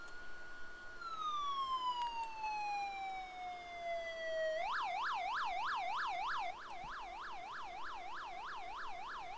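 A battalion chief vehicle's siren in the 911: First Responders video game, starting as a long falling wail and then switching to a fast, steady yelp that rises and falls over and over, loud and close with no voices.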